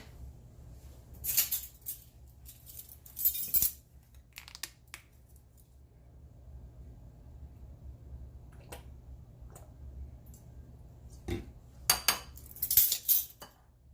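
A spoon mixes ingredients in a bowl with a few sharp clinks and scrapes in short bursts, separated by long near-silent gaps, close and fairly quiet.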